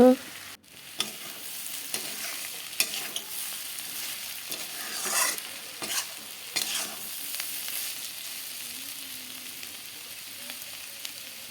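Fish frying in a pan with tomato and onion, a soft continuous sizzle with repeated spatula stirring and scraping, no voices.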